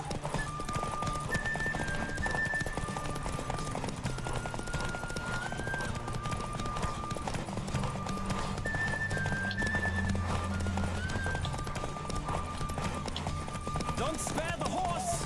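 Galloping horse hooves in a race in the video game The Witcher 3: Wild Hunt, a continuous rapid pounding under game music and occasional voices.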